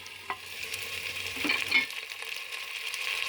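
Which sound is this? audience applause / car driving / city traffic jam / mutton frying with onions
mutton frying with onions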